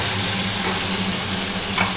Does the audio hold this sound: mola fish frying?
yes